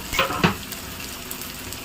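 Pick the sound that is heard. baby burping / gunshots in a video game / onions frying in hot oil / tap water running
onions frying in hot oil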